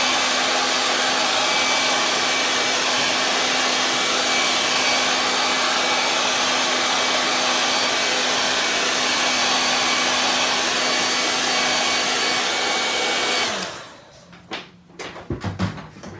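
A hair dryer drying Brusho-painted paper runs as a loud, steady whooshing roar with a constant motor hum for about thirteen seconds, then switches off, followed by a few soft handling knocks and clicks.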